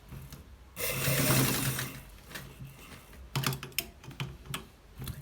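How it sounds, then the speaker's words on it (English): A normal home sewing machine stitches a shirt hem in close bursts, a fast rattling run followed by short choppy spurts of mechanical clatter. "This is exactly how to stitch the hose with the normal sewing machine"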